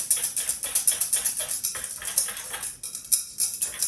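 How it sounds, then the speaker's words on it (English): A whisk rattles steadily against a pot while stirring an arrowroot mixture for plant-based fudgesicles, with quick, regular metallic clicks and scrapes close up and fairly loud. "The main reason I continue to whisk is to keep the arrowroot,"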